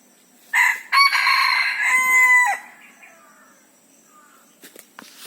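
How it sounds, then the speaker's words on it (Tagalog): A rooster crows loudly nearby in one long drawn-out call, followed by a few faint clucks and small noises. "Manok naman yun eh."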